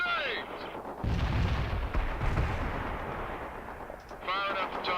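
Battle in the World in Conflict video game: heavy artillery booms and rattling gunfire against a target, loud and continuous with bursts, while radio-style voices speak over parts of it.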